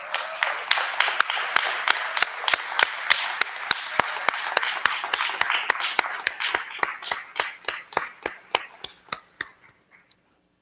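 Applause for scholars at a ribbon cutting ceremony: a crowd claps steadily in sharp, dense bursts that gradually thin out to a few individual claps before stopping, fairly loud and close, with no talk over it.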